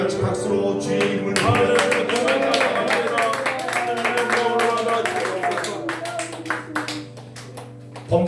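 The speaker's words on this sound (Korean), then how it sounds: "다 같이 박수로 주의 이름을" A church congregation claps along during a worship song, with sharp, rhythmic handclaps over sustained sung and instrumental music, fairly close and loud.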